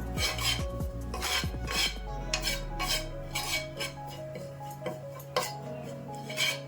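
Ridge gourd peel dry-frying with turmeric in a pan, stirred with a metal utensil that scrapes and clinks repeatedly against the pan in an irregular rhythm, close up and with no talking.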